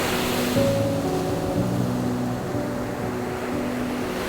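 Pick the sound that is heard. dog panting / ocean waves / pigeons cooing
ocean waves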